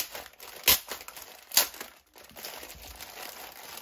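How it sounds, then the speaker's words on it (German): Plastic wrappers of Playmobil Pink surprise bags crinkle as they are opened, with two sharp crackling bursts standing out over a steady, softer rustle. The sound is close and fairly quiet, with no voices. "Aber nichtsdestotrotz öffne ich jetzt die Tüten für euch."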